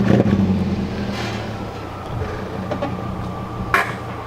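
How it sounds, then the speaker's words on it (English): A VW Golf 3 with a 1.8T engine swap running with no exhaust fitted: a close, rough engine rumble with a brief rise in revs early on, then a steadier drone and a sharp click near the end. "This car loud when it started up with no exhaust."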